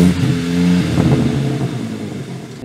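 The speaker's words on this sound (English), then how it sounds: "they also designed cars pre-programmed and tuned from factory to burble" A car engine runs with a low, uneven exhaust burble and occasional crackles, fairly loud and close, with no voices.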